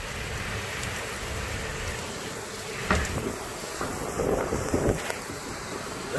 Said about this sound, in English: Listen to this wind, holy crap.